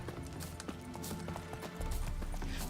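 Hooves of Roach, the horse in the video game Witcher 3, clip-clop in a steady galloping rhythm beneath game music, growing louder and heavier near the end.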